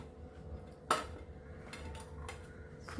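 A metal pressure cooker pot clanks once sharply against a surface, followed by a few lighter clinks and scrapes in a quiet room.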